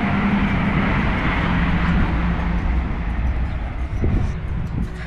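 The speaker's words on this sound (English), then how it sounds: "That's a train." A passing train in Ireland gives a steady, broad rumble that stays loud throughout, heard from nearby with no talking and a few faint squeaks near the end.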